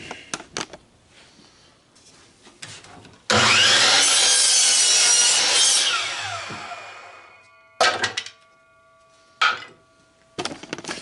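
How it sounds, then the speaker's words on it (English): A saw cuts miters through wooden boards in one loud, sustained cutting pass lasting a few seconds, set between shorter bursts of handling and knocking noise. "I'm going to cut a miter on both of my pieces of board here"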